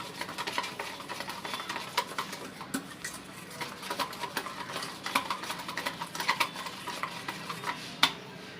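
Gram flour batter being whisked in a bowl, a busy run of quick wet taps and utensil clicks against the bowl, fairly close and continuous, with one sharper knock near the end.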